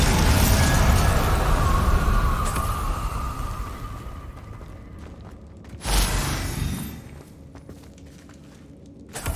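Bombarda explosion spell cast in Hogwarts Legacy, a loud rushing blast that fades out over several seconds, followed by a second sharp burst with a brief trailing roar.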